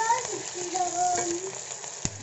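Onions with green chillies and curry leaves sizzle steadily in hot oil in a pan while chicken pulao is being cooked, a continuous close frying hiss with a light stir and a small clack near the end.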